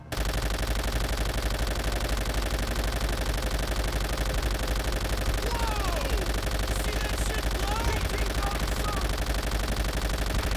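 In Call of Duty: World at War, a mounted machine gun fires continuously in rapid bursts, loud and sustained, with battle noise and voices mixed in throughout.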